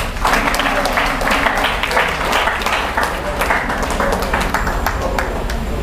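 A church congregation claps for Jesus in steady, dense, close applause that runs unbroken for several seconds, with little else audible.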